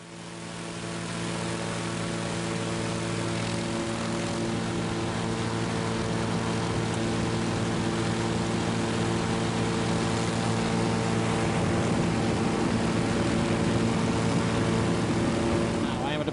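A microlight aircraft engine droning steadily in flight over the Newfoundland countryside, a loud constant buzz with strong harmonic tones that holds for the whole stretch.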